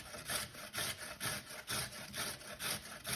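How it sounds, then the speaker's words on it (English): Food is grated on a kitchen grater in steady back-and-forth rasping strokes, about eight scrapes in three seconds, close but quiet. "What does that sound like? A grater."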